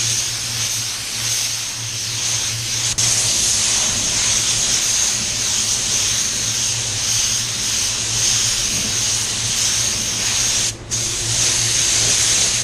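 A spray gun hisses steadily while laying Mazda Soul Red Crystal paint, a loud, continuous airy rush with a faint compressor hum underneath, interrupted only by a brief drop near the end.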